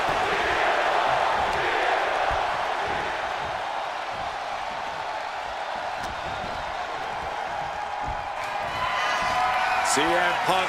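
A large arena crowd roars steadily throughout a WWE 2K26 wrestling match, a broad continuous cheer with a few sharp slams and whoops rising near the end.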